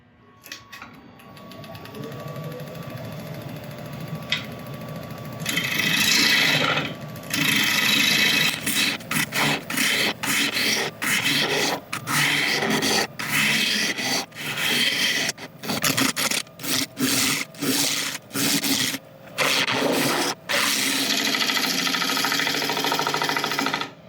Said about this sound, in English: I'm just going to go and sharpen up again and then we'll continue.